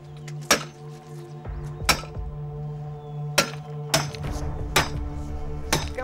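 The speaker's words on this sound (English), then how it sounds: "Okay, who's gonna hammer, Tiggy?" Sharp metallic hammer strikes on a fractured jade boulder ring out one at a time at uneven intervals, each a loud clank with a short ringing tail over a steady low hum.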